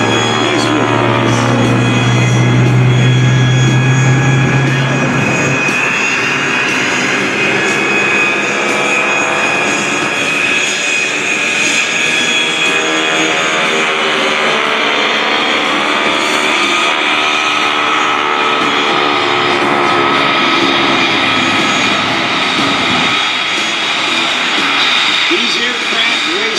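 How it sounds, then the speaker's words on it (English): A warbird aircraft with a 600 horsepower Pratt & Whitney nine-cylinder air-cooled radial engine flying at an airshow, its loud droning roar shifting in pitch as it passes, with a commentator talking over it throughout. "with a 600 horsepower Pratt & Whitney engine on the front, a 9-cylinder air-cooled"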